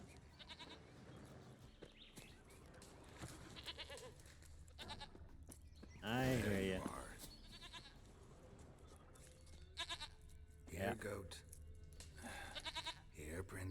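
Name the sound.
goat bleating in The Witcher 3 video game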